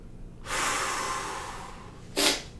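A person draws one long, audible breath in through the nose and mouth, close and airy, followed by a short sharp sniff.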